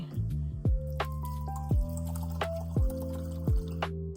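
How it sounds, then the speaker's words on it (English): Plain water runs through a home coffee maker, producing a steady series of close, pitched drips and gurgles that repeat in an uneven rhythm. "before I make my cup of coffee, I run it with just some water."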